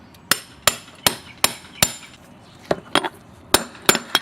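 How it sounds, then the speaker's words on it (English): Hammer taps a big socket to seat a car's rear wheel bearing onto the hub, about a dozen sharp metallic strikes at an uneven steady pace, close and alone. "get a big socket that fits over the top of it and tap it on"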